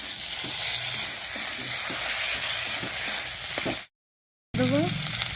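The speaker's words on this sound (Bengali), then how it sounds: "আমার পেঁয়াজ ভাজা হয়ে গেছে, এবার আদা রসুন বেটে রেখেছিলাম সেটা দিয়ে দেবো" Ginger garlic paste frying with onions in hot oil, a steady close sizzle with scraping stir strokes, broken by a brief dropout before the sizzling resumes.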